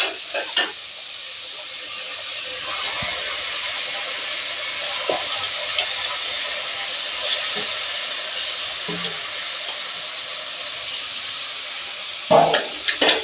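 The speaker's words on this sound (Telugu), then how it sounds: "ఇప్పుడైతే మటన్ అయితే వేసుకుందాం." Mutton pieces hit a hot pot for a Telangana-style fenugreek mutton curry, giving a steady, moderately loud sizzle and hiss with a few clatters of stirring near the start and end.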